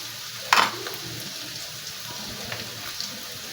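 Onions frying in oil in a wok, a steady low sizzle with one sharp scrape of stirring near the start and a couple of softer clinks later, close by with no voices.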